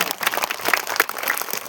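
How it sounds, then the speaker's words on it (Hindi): Children at a madrasa annual function clap loudly, a dense burst of applause close by with a few voices mixed in. "एक बार जोरदार बजा दे ताली"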